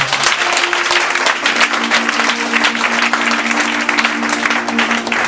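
Loud, continuous applause and cheering fill a church as the congregation claps together, with a steady held musical tone sounding underneath the crowd.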